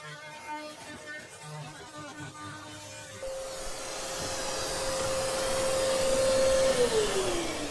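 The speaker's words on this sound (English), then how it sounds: "Oh, vacuum cleaner." A vacuum cleaner kicks on partway through during DIY boat refit work on chainplate knees, a steady close whine that holds for several seconds then sags in pitch near the end.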